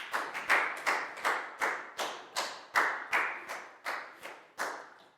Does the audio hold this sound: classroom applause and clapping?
yes